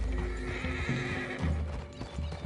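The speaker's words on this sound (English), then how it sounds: "I'll get my guns off my horse, and I'm ready." A horse in Red Dead Redemption 2 clip-clops nearby with hooves thudding in an uneven rhythm, broken by a clear neigh and whinny, all close and fairly loud.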